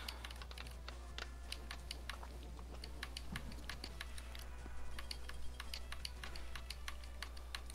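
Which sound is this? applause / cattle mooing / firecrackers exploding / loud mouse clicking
loud mouse clicking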